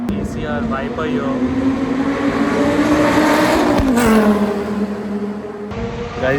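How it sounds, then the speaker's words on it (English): A loud, tuned Mitsubishi Evo race car engine, modified for the track, roars steadily nearby, its deep rumble holding for several seconds before easing off slightly near the end. "that Mitsubishi Evo, which is like pimped up for the racetrack, that is insanely loud"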